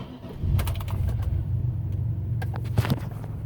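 A 2001 Chevy Impala engine catches and settles into a steady running idle, a close low rumble with a few sharp clicks and clatters on top and no speech.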